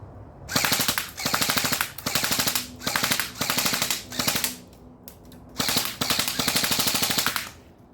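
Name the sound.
airsoft AEG rifle firing at targets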